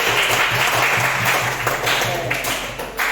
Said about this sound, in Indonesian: tepuk tangan sekali lagi dulu buat kita semua